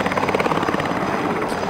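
A helicopter heard close and steady, its dense rotor chop and engine roar filling the whole stretch without a break, with no talking over it.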